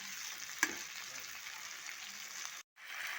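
Mushroom bhaji with its broken-off stems cooks in a kadhai, giving a steady, quiet sizzle with one brief clink of stirring and a short dropout near the end.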